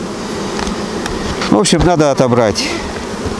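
Honey bees hum and buzz steadily at an open hive during a honey harvest, a dense close drone with someone talking briefly over it.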